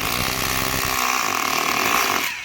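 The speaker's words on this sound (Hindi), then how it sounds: "और ये इजी तरह से ड्रिल हो जाता है इसमें।" A power drill fitted with a 6-size bit bores into the iron mount of a DD Free Dish satellite dish, a loud, steady, close whine that drops off abruptly at the end, with no talking.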